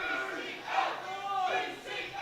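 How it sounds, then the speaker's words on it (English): A crowd at a junior powerlifting championship chants the initials of a New Zealand lifter, a loud rhythmic group shout rising and falling in two or three surges. "They're shouting BCL, his initials."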